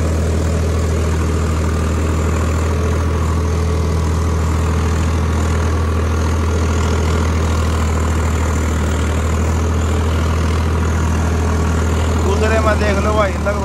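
A Swaraj 855 tractor runs a 9-foot rotavator through wet soil while sowing wheat, giving a loud, steady, close low-pitched engine drone that barely changes as the revs sag slightly under load.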